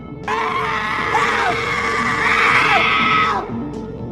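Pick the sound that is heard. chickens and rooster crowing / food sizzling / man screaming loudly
man screaming loudly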